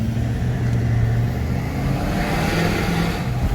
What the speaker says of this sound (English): Now that's exhaust. That's exhaust.